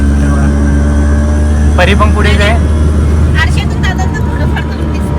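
An auto rickshaw engine drones steadily while riding through Nashik, loud and continuous under lively voices talking and calling out throughout.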